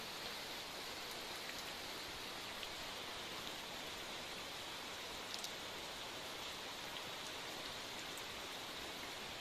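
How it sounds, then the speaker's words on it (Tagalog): Steady rain falls continuously, a dense, even hiss with occasional louder drops, fairly soft and uninterrupted. "Umuulan na."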